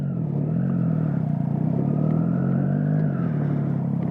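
Triumph Street Triple 675 motorcycle in first gear, its engine and exhaust a steady, loud, close rumble with gentle rises in pitch as it pulls away.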